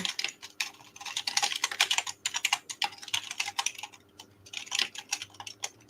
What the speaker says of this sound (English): Yeah, mechanical keyboards. That's what that is.